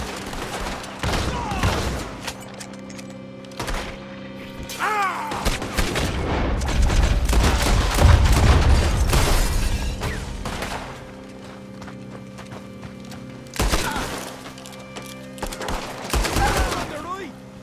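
Gunfire rings out in a Red Dead Redemption 2 shootout near the woods: sharp bursts of shots, some rapid and clustered, crackle over a busy game soundscape with faint voices and a low rumble swelling midway.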